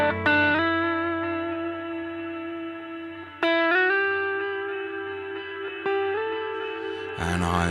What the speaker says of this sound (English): I'm going to try to keep playing the same chord so you can hear different amps through the same